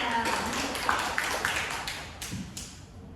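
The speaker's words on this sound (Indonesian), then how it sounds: "Tepuk tangan pada Nada." Scattered hand clapping from a small classroom group during a teaching practice lesson, a few uneven claps over steady room noise at moderate loudness, with no talking.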